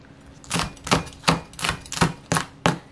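A knife chops golden enoki mushrooms, onion and chili on a cutting board, giving about eight crisp, evenly spaced knocks that sound close and clear with no talking.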